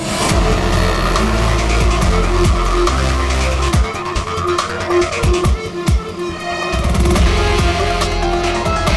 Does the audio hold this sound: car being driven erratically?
yes